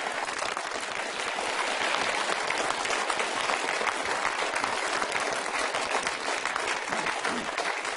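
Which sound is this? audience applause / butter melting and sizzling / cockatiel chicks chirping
audience applause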